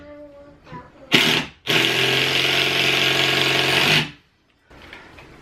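A power drill drives a screw into a wall stud while a shelf is hung, giving a short burst, a brief pause, then a steady, loud whirring run of about two seconds that stops abruptly, with faint talk before and after.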